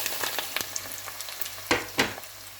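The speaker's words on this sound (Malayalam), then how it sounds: "ഒരു പാൻ അടപ്പത്ത് വെച്ച് എണ്ണ ഒഴിച്ച് ചൂടായി കഴിയുമ്പോൾ നമ്മൾ എടുത്ത് വെച്ചേക്കുന്ന തേങ്ങേനെ നമുക്ക് ഈ എണ്ണയിലിട്ടിട്ട്" Grated coconut frying in hot oil in a pan, a steady close sizzle with scattered crackles and two sharper pops near the end, no talk.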